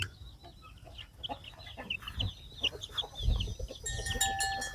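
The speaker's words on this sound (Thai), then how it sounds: "อันไก่เนาะนี่" Farm chickens cluck and chatter in quick, scattered bursts at close range, mixed with a few low thumps and brief sharper calls toward the end.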